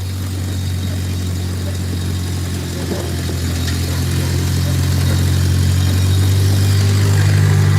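A tractor engine idles slowly and steadily, a low continuous drone with a deep rumbling throb that builds slightly in loudness toward the end, with no talk over it.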